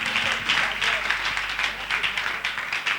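A church congregation at a prayer gathering applauds in sustained, dense clapping, steady and fairly loud throughout, with voices mixed in underneath.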